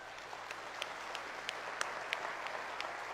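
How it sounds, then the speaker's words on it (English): Faint, scattered clapping from a small audience honoring veterans at a training session, individual claps spaced out and quiet over a steady background hiss. "Let's give you all a round of applause."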